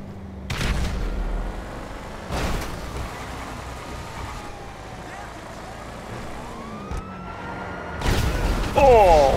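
Orbital cannon strikes in Grand Theft Auto V, several sharp booming blasts spaced a few seconds apart over a background of sirens and traffic, the last one loudest.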